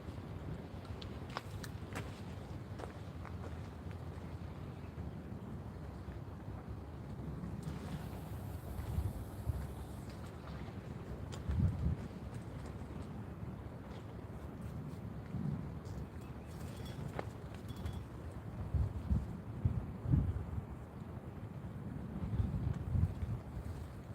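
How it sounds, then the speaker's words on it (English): Strong wind buffets a lake shore during a fishing session, a steady low rumble of gusts against the microphone with occasional louder surges and faint knocks, no clear talk. "Wind is brutal."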